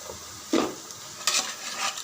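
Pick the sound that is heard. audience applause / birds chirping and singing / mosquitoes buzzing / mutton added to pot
mutton added to pot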